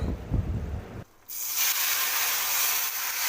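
Asafoetida hits hot oil with a sudden loud hiss after about a second of near quiet, then keeps sizzling and bubbling steadily and close.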